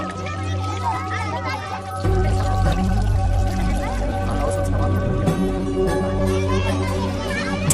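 Water is poured for bathing, a continuous splashing pour that begins suddenly and runs on under overlapping chatter and children's voices.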